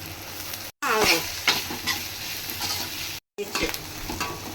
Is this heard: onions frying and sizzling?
yes